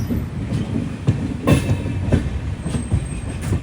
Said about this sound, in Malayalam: ഈ വണ്ടി പൂനെ ജംഗ്ഷൻ നിന്ന് എറണാകുളം ജംഗ്ഷനിലേക്ക് വരുന്ന സൂപ്പർ ഫാസ്റ്റാണ്